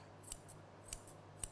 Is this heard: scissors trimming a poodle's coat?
yes